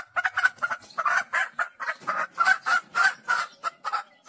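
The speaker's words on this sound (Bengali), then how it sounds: "এই মুরগির নাম হচ্ছে সিল্কি বার্ড" A Silkie chicken kept as a house pet gives a rapid series of close, rhythmic clucking calls, each burst short and evenly spaced, with no other sounds around it.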